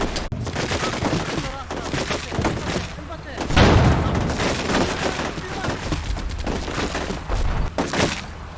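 Bursts of machine-gun fire from a technical laying down suppressing fire in the wargame Combat Mission Shock Force, in a Syrian garrison assault, with loud repeated volleys and booms in a dense, continuous stretch of battle noise.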